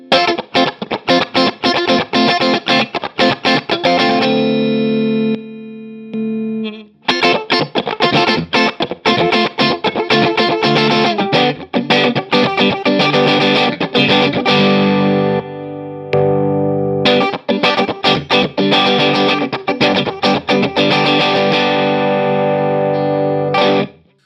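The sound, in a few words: electric guitar through compressor pedals, amp overdrive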